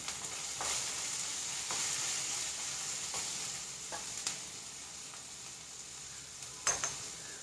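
Onion and tomato masala sautéing in a pan for a tender coconut curry, a soft continuous sizzle with scattered scraping stirs and clicks of a spoon, close and quiet.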